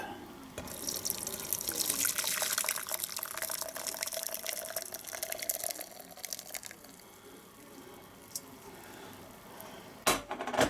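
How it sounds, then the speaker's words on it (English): A blackberry and whiskey mixture is poured through a sieve into a jug: a quiet, steady trickling stream that thins out into scattered drips near the end. "Now we transfer this through a sieve into a jug."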